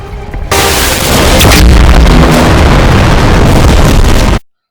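Sustained roaring rumble of a planet being carpet bombed from orbit in a Star Trek Discovery scene, a loud, dense wall of blasts and booms that swells in after a quiet lead-in, holds steady, then cuts off abruptly.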